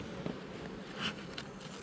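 Honey bees swarm around an open hive during a beekeeper's check of a regular colony, making a soft, continuous buzzing drone with a few brief louder passes close by.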